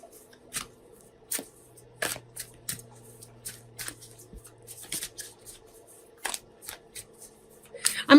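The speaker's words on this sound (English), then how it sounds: "I'm shuffling our Sacred Traveler Oracle cards" Sacred Traveler Oracle cards are shuffled by hand close up, a run of crisp riffling bursts and soft slaps at irregular intervals against a quiet room.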